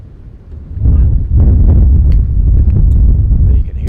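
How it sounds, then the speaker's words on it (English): Wind buffets the microphone at an outdoor tennis match, a loud low rumbling roar that swells after the first second and keeps gusting unevenly to the end. "That breeze. It is windy out there."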